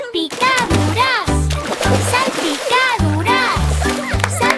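Cartoonish water splashes land in a bouncy rhythm within a children's song, mixed with a child singing over bright music.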